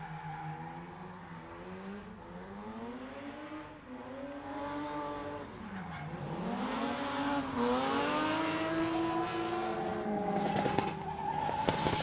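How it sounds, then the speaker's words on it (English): A pro drift car at a competition round revs hard with a rising and falling engine whine as its tires squeal in a long continuous skid, loud and sustained. "So there we go, Mark Brown absolutely giving that car death."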